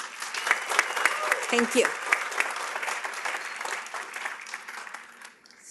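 Audience applause at the 2022 Madera Community College commencement ceremony, steady dense clapping filling the hall for several seconds before tapering off, with a brief spoken thanks over it.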